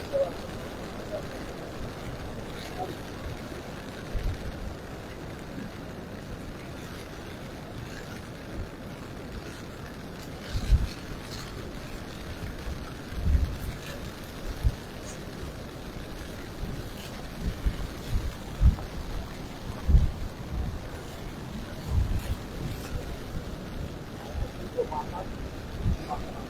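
Strong wind buffets the microphone on Saint Martin's coast while a roaring sea rumbles low and constant, with gusty bursts rising and falling over about half a minute beneath a voice talking.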